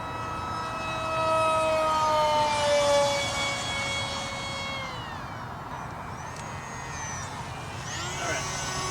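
Hobbyzone AeroScout S2 1.1m RC plane with its electric prop motor at full throttle on a speed run, a steady high whine that swells as it passes and then fades with falling pitch, heard from the ground at a distance.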